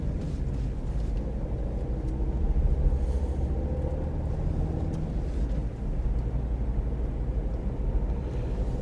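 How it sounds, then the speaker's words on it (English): Steady low rumble of car traffic around a moving car on a dual carriageway, continuous engine and road noise with no distinct passing events. "Lots of cars around."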